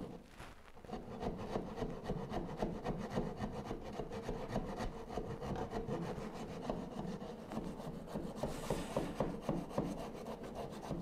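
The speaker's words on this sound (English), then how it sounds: "sawing relief cuts to get these guys done" A hand saw rasps back and forth through wood in a steady, rapid rhythm, cutting relief cuts, close and continuous with no talking.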